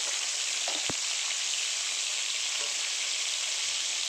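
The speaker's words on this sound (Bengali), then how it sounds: "এখন কাঁকড়াগুলোকে ভাজবো।" Continuous crackling sizzle of crab pieces frying in hot oil, with a single sharp clink early on and a steady hiss throughout.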